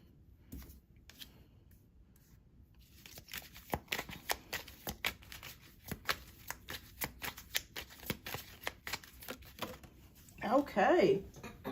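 Tarot cards being shuffled by hand in a rapid run of papery flicks and riffles, close and fairly loud, with quiet stretches at the start and a denser, louder burst of shuffling near the end.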